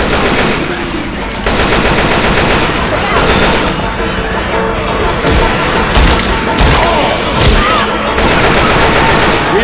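Rapid automatic gunfire blasts at a zombie in Left 4 Dead, loud and continuous for nearly ten seconds with bursts and booms, while players talk over the shooting.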